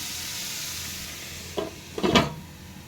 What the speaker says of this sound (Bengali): তো ব্রোকলিটাও একটু ভেজে নিচ্ছি। বাটারে ভাজার জন্য স্মেলটাও বেশ সুন্দর আছে।